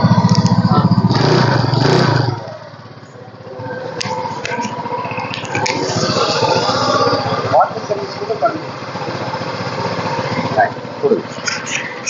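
A used 2015 two-wheeler in good condition runs its engine, a steady high-pitched buzz close by, loudest for the first two seconds and then settling to a lower, even hum with a few faint knocks and clicks.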